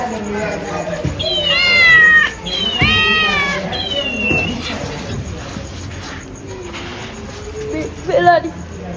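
Repeated high, wavering cat meows in bursts, loudest in the first three seconds with another cry near the end, over background chatter and household noise.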